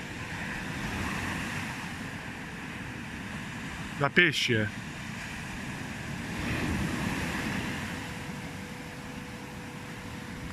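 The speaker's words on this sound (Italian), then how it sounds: "Guardate che bel mare, guardate che bella schiuma" Sea waves break into foam along the shore at Levanto, a steady rushing wash mixed with wind noise. Someone speaks briefly over the surf.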